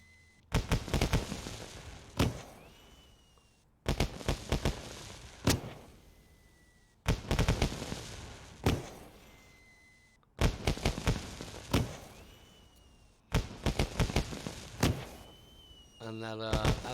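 Fireworks launched from the DayZ 10th anniversary launcher in the video game, bursting in five repeated volleys of sharp cracks and booms with crackling tails, loud and close, ending with a rapid fluttering crackle.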